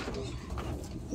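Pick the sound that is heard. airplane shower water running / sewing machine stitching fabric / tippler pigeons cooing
tippler pigeons cooing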